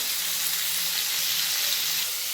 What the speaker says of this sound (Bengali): পটল আলুগুলো ভাজা হতে থাক